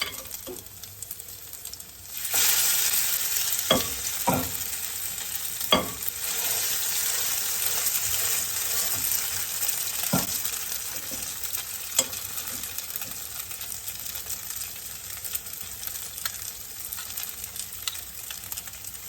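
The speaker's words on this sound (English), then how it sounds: "I'm going to continue placing the potato mixture into the fry pan" Grated potato fritter mixture hits a hot frying pan and bursts into a loud, steady sizzle that carries on throughout, with a few sharp taps of a scoop or utensil against the pan.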